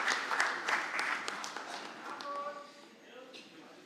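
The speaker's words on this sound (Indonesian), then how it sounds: "Kita berikan tepuk tangan yang meriah buat Pak Ganjar Pranowo dan Prof." Applause for Ganjar Pranowo and Mahfud MD at their presidential ticket declaration, scattered claps at a moderate distance that thin out and fade under the announcer's voice and a sustained tone.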